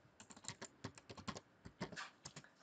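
Someone types a database query on a computer keyboard, a quick uneven run of close, crisp key clicks in small bursts with brief gaps and no talk.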